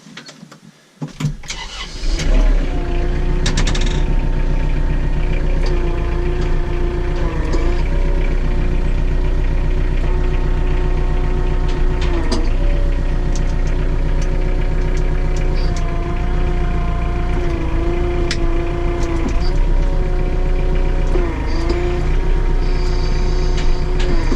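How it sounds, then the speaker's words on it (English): A tractor engine cranks and catches after a couple of seconds, then settles into a loud, steady diesel rumble that runs on with slight variations in pitch. "I'll start the tractor up now and show you."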